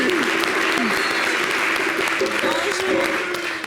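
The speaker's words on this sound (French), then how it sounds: "applaudissez, applaudissez, applaudissez" A television show audience gives lively applause, dense crowd clapping that stays loud and constant throughout, with scattered cheers and voices rising above it.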